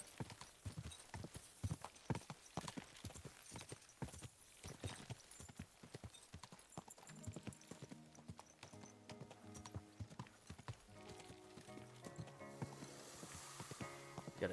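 Horse hooves clip-clop in a steady rhythm on the ground in the video game Kingdom Come Deliverance 2, fairly quiet, with tonal game sounds rising toward the end.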